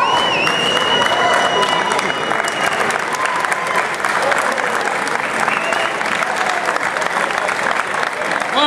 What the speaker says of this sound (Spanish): Fuerte el aplauso, ¿eh?